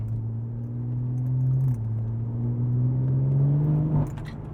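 A BMW M140i accelerating hard, its engine holding a loud steady drone that climbs gradually in pitch over several seconds, with a brief dip near the middle and a sharp drop at the end as the throttle lifts.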